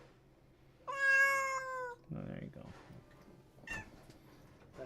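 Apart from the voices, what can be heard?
pet cat meowing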